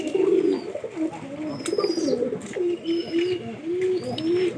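Pigeons coo close by in a steady run of soft, throaty, repeated calls, with a few faint chirps and no talking.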